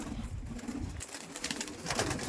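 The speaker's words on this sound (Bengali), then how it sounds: "দেখতে পাচ্ছেন পায়রাগুলো কত সুন্দর চান করছে।" Pigeons coo low and close while bathing, with soft splashing and fluttering bursts in the second half; the sound is fairly quiet overall.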